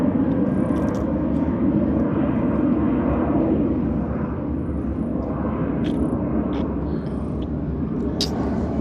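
A fixed-wing airplane passes overhead, its steady broadband engine rumble holding loud and constant throughout with no voices, heard from the ground in a quiet outdoor area.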